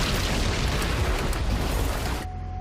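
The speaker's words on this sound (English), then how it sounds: "The dryer catastrophically exploded." A clothes dryer explodes in an animated reenactment, a loud, sustained broadband blast that fills the clip for about two seconds before cutting off to a quieter ringing tail.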